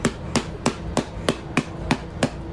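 A hammer striking someone's back, heard in the playback of a recorded video: eight sharp thuds evenly spaced about a third of a second apart, each one distinct and fairly loud.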